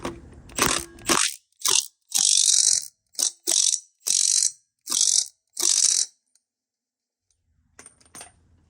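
Stubby ratchet wrench tightening the wheel hub nut on a Suzuki LT250R quad, a sharp close clicking burst followed by about seven even ratcheting strokes, then quiet with faint handling noise.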